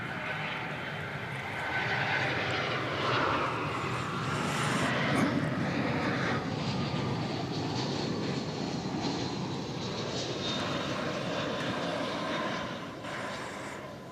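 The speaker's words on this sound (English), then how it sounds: "we're in the final weeks of seeing the British Airways A380 here" A British Airways A380 at DFW Airport produces a steady, broad engine roar that swells and holds for more than ten seconds before easing slightly, heard from a moderate distance outdoors.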